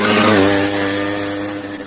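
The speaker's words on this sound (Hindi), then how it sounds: "It's a girl on the motorcycle. Yes, it's a girl. She is riding the motorcycle." A motorcycle ridden by a young woman passes by, its engine a steady, fairly loud drone that fades slightly as it moves along over about two seconds.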